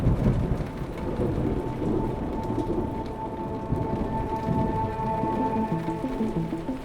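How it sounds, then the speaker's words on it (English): A thunderstorm over Merida, Yucatan, with steady heavy rain hissing on surfaces and low rumbling thunder throughout, loud and continuous, with no voices. "We have a storm at Ride the World in Merida, Yucatan"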